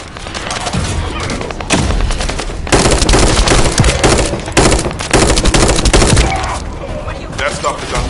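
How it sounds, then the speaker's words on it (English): Heavy automatic gunfire in The First Descendant video game, loud and dense with sustained rapid bursts and brief pauses, voices talking underneath at times. "That stopped the gunfire."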